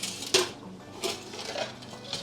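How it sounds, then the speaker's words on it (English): Plastic lids being lifted off an aquarium tank, giving a few clattering knocks and scrapes at close range with a sharp clack near the start and lighter handling sounds after, no talk. "Just removing these lids."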